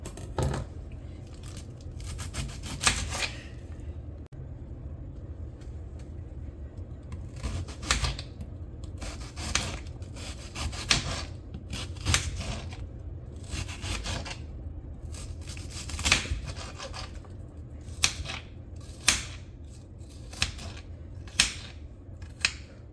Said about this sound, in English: I'm going to take an onion and I'm going to finely dice this onion